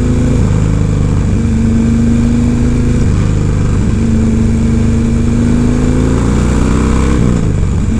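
A Harley-Davidson Dyna motorcycle with a Clubstyle FXRT fairing runs loud and close, its engine droning steadily with pitch rising and falling as it revs under way.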